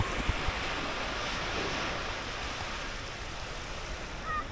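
Sea waves wash in on a beach in Japan as a continuous soft surf, steady and fairly distant, with wind buffeting the microphone.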